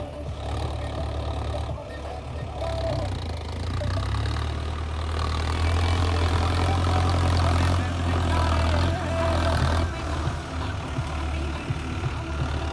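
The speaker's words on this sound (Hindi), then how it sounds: "हमारे फार्म ट्रैक 45 को लोडिंग कर रही है ट्रॉली को।" A JCB-equipped Mahindra Novo 605 4x4 tractor engine idles with a steady low rumble while loading a Farmtrac trolley outdoors, mid-level and continuous, with no clear speech over it.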